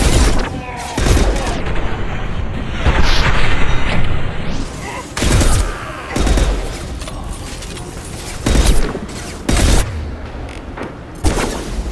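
Grenade explosions and gunfire from a Mass Effect 2 combat scene: several loud booms and bursts of shots in quick succession, up close, with a combat shout mixed in.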